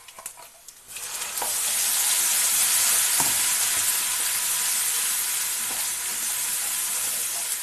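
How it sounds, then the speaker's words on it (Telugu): Masala sizzling and frying steadily in a pan for a bean seed and egg curry, a loud continuous hiss that starts after a brief quiet moment, with occasional faint stirring knocks. "ఈ మసాలా అంతా మనకు పచ్చి వాసన పోయినంత వరకు వేగనివ్వాలి"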